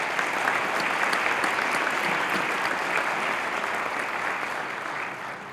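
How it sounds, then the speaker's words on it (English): A round of applause from a crowd for honored guests, including a mayor, at a campaign announcement event, dense steady clapping sustained evenly for several seconds and heard alone. "Would you give them a round of applause?"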